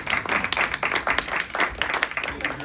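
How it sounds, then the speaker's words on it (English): Audience applause at a close-up magic show, a dense burst of clapping that holds steady and fairly loud throughout with a faint voice underneath. "Please give them both a round of applause."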